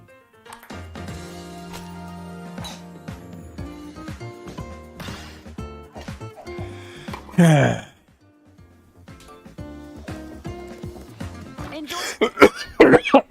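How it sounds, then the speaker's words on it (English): A man coughs repeatedly while gaming, with a cluster of harsh bursts and throat clearing between stretches of background game sound, near and fairly loud. "I'm sorry I've been coughing so much"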